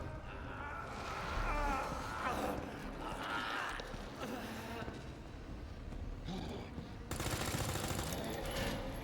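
Gunfire in the video game Resident Evil 2, scattered bursts and shots mixed into a dense, loud game soundscape while a player talks over it much of the time.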